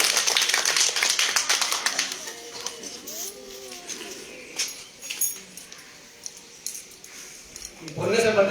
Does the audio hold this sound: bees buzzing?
no